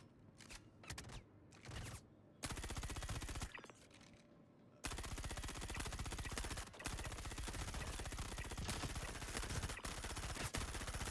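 Rapid automatic gunfire rattles in bursts during a firefight clearing enemies in the video game Star Citizen, sparse shots at first, then sustained loud continuous fire dominating the rest.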